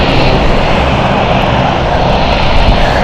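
A fixed-wing airliner engine at London City Airport roars steadily and loudly, a dense continuous drone with no pauses or voices.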